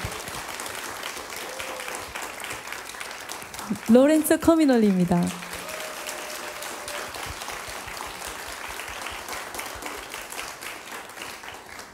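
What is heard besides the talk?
audience applauding concert musicians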